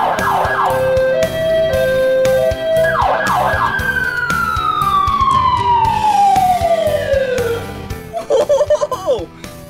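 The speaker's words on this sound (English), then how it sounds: "Check this out down here. The siren." A loud fire truck siren wails and sweeps through rising and falling tones, with a continuous descending whine, then fades into chatter and shuffling near the end.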